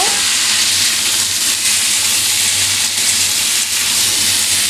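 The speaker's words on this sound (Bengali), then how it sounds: "এবার একটু আলুগুলো দিয়ে আমি কষিয়ে নেব" Potatoes frying in hot oil in a pan for a tomato-potato dish, a loud, steady close sizzle hissing without pause throughout.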